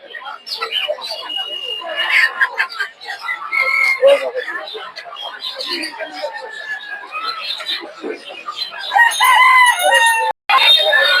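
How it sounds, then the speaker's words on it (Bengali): Local desi chickens cluck and crow at the busy Tongi poultry market, a dense chorus of calls close by with people talking throughout. "সব দেশি মুরগি"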